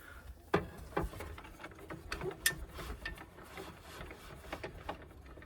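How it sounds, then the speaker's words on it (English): Table saw blade height being adjusted in a woodshop, a series of close mechanical clicks, ratcheting and gear-like clatter with irregular taps and one sharp knock, no talking. "I'm going to set up the table saw to cut this height."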